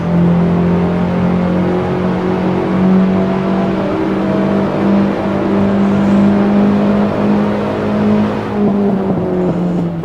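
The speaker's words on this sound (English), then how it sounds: "this is me driving an older BMW trying to outpace the newer, more modern versions" Older BMW race car in Assetto Corsa, its engine droning steadily and loud throughout with a strong, constant low hum and no talking.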